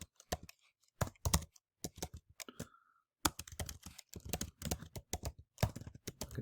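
Keys clatter on a computer keyboard in quick bursts of close, crisp clicks separated by short pauses, alone without any talking.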